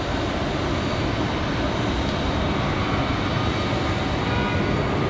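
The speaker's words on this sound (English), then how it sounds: "Looks like our A321 back to Charlotte." An Airbus A321 jet departing Raleigh-Durham airport, its engines producing a loud, steady broadband roar that holds constant throughout, with no voices.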